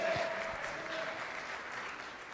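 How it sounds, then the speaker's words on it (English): A church congregation applauds the praise team at an Easter Sunday service, a soft, steady wash of many hands clapping that sounds somewhat distant and fades slightly toward the end. "Give them a round of applause."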